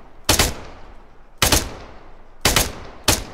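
Bursts of automatic gunfire in the video game Arma 3, four loud, sharp volleys spaced about a second apart, each ringing briefly before fading, with no talking.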